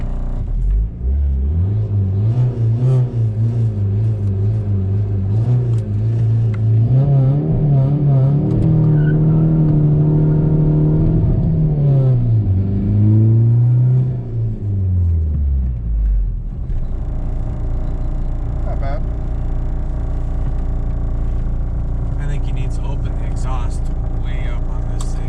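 A diesel-powered car engine revs up and down, a deep droning rumble that rises, holds and falls before settling to a steady idle, with people talking over it.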